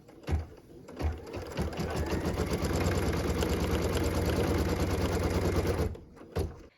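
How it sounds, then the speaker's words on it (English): An embroidery sewing machine stitches a tack-down line on fabric held in a hoop, its needle chattering in a fast, steady rhythm for several seconds between a few soft clunks at the start and end, with no talking. "What we're stitching now is the tack down line for piece number 7."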